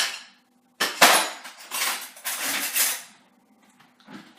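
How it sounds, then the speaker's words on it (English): A shiny metal fork stirring chocolate milk, giving bursts of clinking and scraping against the glass or cup, loud and close, in short uneven runs with a pause between them. "Then you have to use this shiny fork to stir it"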